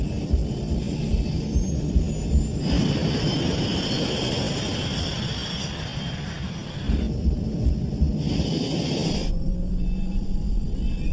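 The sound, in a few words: airliner takeoff roll on runway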